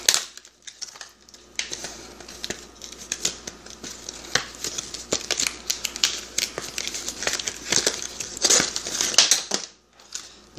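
Scissors snip and split paper backing during a Jeep Wrangler LED interior light install, with close, irregular crinkling, tearing and crunching as the paper is pulled out, no talking.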